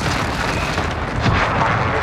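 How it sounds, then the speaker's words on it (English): A video game airstrike explosion: a dense, loud, sustained rumbling roar that fills the whole stretch with a slight swell near the end, heard close and without talk. "There's an airstrike on me, avoid me."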